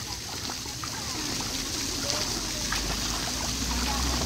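Water splashing and sloshing as a child dives into an outdoor swimming pool at a residential community, a steady churning wash with a few brighter splatters throughout.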